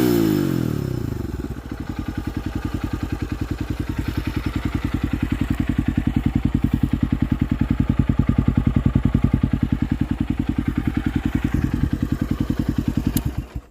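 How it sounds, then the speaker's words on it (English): A Honda XR150L with an RBX exhaust and silencer fitted starts up, then settles into a loud, steady single-cylinder idle with an even, rapid thump that holds for over ten seconds. "I guess I'll start it up with the silencer"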